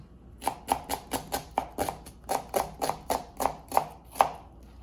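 A knife slices vegetables into thin pieces on a cutting board for an Indian spicy omelet, giving about fifteen crisp, evenly paced chops up close with no talking.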